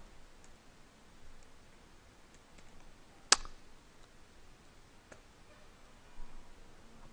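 A single sharp computer mouse click near the middle, with a second fainter click later, over faint background hiss, clicking open the PuTTY client on a desktop computer.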